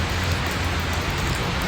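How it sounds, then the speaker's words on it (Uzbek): Steady rain falls in an even, dense hiss with no break in the patter, heard alone with no voices. "Allohning rahmati bugun yomg'ir yog'yapti."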